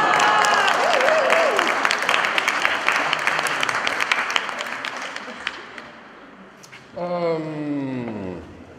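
An audience applauds at a baking contest prize announcement in a Dutch community hall, loud clapping that gradually fades out, followed by a voice speaking into a microphone.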